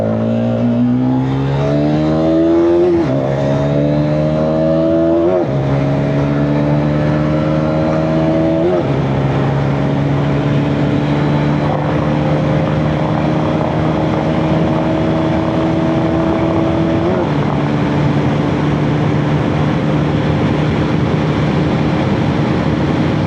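A Hero Xtreme 250R motorcycle engine pulls hard through the gears, loud and close, with its pitch rising repeatedly and dropping at each shift before a long sustained high-revving run.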